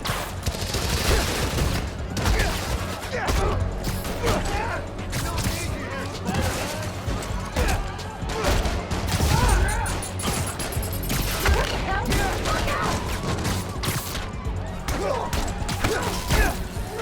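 Sustained volleys of suppressing gunfire in the Spider-Man: Miles Morales video game, dense and loud throughout with crashes and thuds mixed in, while voices shout over the shooting.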